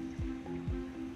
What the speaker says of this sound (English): Transparent clean water flows towards the Shengou Water Resources Ecological Park.